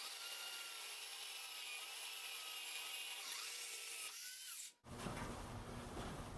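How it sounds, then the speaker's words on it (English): Drill boring angled holes in wood for a wheelbarrow planter, a dense continuous grinding roar that cuts out briefly near the end and then resumes rougher, with no talk. "Okay, I've drilled 4 holes"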